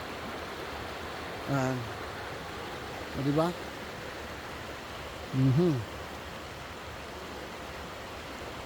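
A river swollen after rain flows with a steady, broad rushing wash, and someone talks briefly a few times over it.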